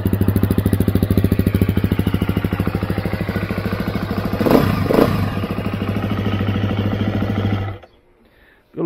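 A 2021 KTM EXC 350 dirt bike idles loudly up close with a fast, steady pulsing thump, blips its throttle briefly midway, then cuts off into near silence.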